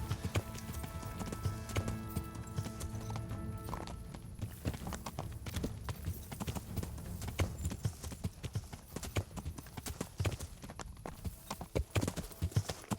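Rapid clip-clop of horse hooves at a steady trot in the video game Kingdom Come: Deliverance, fairly close and continuous, with a few louder strikes and a faint voice underneath.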